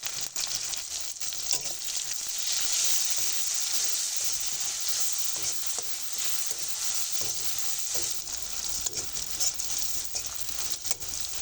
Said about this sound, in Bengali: পেঁয়াজটা আমার ভালো করে ভাজা হয়ে গেছে